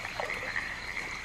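Frogs croaking in a chorus, a steady buzzing trill with repeated pulsing calls, continuous and fairly loud without any talk.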